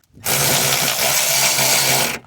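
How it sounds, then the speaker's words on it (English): A cordless ratchet whirs steadily for about two seconds while removing rusted bolts on a 1993–97 Toyota Corolla 1.6 during a timing belt and water pump job. The tool is close and loud, with no talking. "My cordless ratchet, see, almost got stuck right there."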